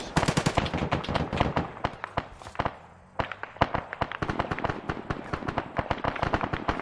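Rapid bursts of heavy machine gun fire from an aircraft gun run in a military video game, sharp repeated cracks in long dense strings with a brief pause midway, loud and close.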